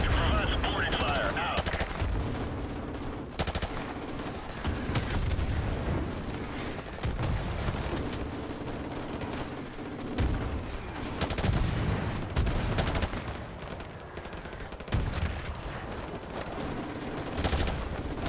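Gunfire in the Call of Duty Modern Warfare campaign: repeated bursts of automatic fire and sharp shots cut through a loud, busy battle mix, with occasional heavier blasts and game voices underneath.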